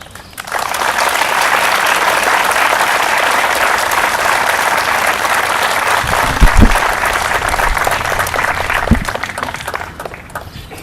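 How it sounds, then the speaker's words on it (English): Sustained applause from a crowd at a Memorial Day ceremony in Fanwood, steady and dense for about ten seconds, with a few low thumps near the end as it tapers off. "Please give him another round of applause"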